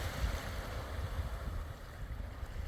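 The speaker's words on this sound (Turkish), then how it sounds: "Bakın dalgalar ne kadar geliyor." Sea waves wash steadily over a harbour quay and short breakwater during an unusually high tide, a continuous low rushing wash with wind noise and no speech.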